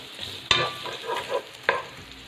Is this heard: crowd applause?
no